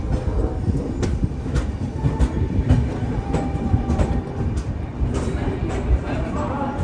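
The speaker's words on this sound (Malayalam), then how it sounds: "8:41 ട്രെയിൻ ഇതാ ബിനാർ റെയിൽവേ സ്റ്റേഷനിലേക്ക് എത്തിക്കൊണ്ടിരിക്കുകയാണ്." The Millennium Express rolls into Bina railway station, a loud, steady rumble of wheels and carriages with rhythmic rail clatter close by.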